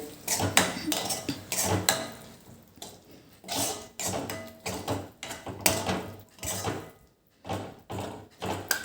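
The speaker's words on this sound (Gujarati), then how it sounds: "આને પણ આપણે સતત હલાયા કરવાનું નહીં તો આપણું દહીં ફાટી જશે" A spoon stirs chole gravy with yogurt in a metal pot, making a repeated rhythm of clinks, scrapes and knocks against the sides, close up and with no speech.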